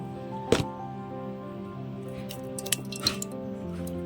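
Thick curd poured from a small glass into a blender jar with mint and sugar for a mint lassi, giving a soft wet plop and squish, then a few faint drips and clinks in a quiet kitchen.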